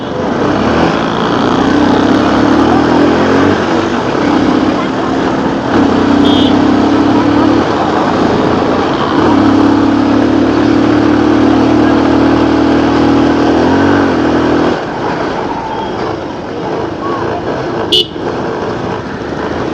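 A motorcycle engine drones loud and close without a break, one of three bikes riding up toward a hilltop ridge to pick kafal berries, its steady roar dipping only briefly near the end.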